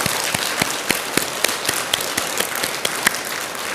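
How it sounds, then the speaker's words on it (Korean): An audience applauding at a Buddhist temple talk, with a steady, dense crackle of many hands clapping at moderate distance and a few sharper individual claps standing out. "이 모든 분들을 위해서 큰 박수 한번 보내주시기 바랍니다"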